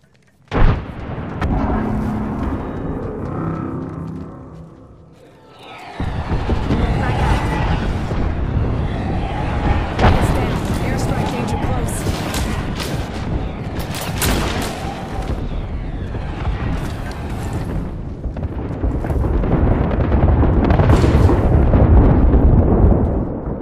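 A frag grenade explodes in the Apex Legends video game: a loud blast, then a long rumbling roar of explosions and debris that runs on continuously with little break.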